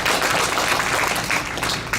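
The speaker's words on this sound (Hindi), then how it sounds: "उनके लिए जोरदार तालियां से स्वागत करें।" Dense, steady applause from a temple congregation in Surrey, Canada, greets a Bhagavad Gita discourse. It fills the whole moment at moderate volume.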